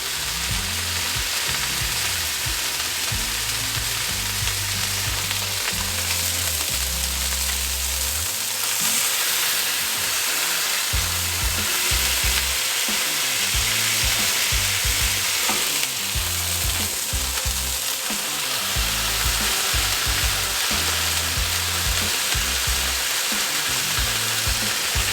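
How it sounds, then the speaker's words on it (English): Burger patty searing on a Blackstone griddle: a steady, loud sizzle and crackle of frying meat, with scraping of a spatula on the flat-top and no voices. "smash that burger down. Hold it for a little bit and let it sear."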